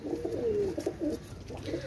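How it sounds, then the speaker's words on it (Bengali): A pair of crested golden pigeons coo in low, rolling phrases, repeated several times over two seconds, close by and clear with no talk. "একজোড়া স্কুলওয়ালা গোল্ডেন কবুতর"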